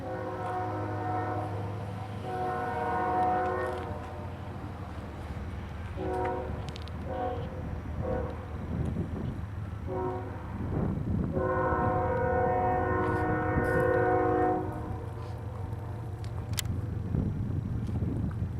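CSX freight train Q372 rolls through Point of Rocks with steady rail rumble while its horn blasts in several long and short calls, loud and close.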